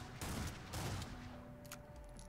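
Custom weapon firing in the video game Killing Floor 2, a few sharp blasts in quick succession with a ringing tail and brief tonal hum, loud and close.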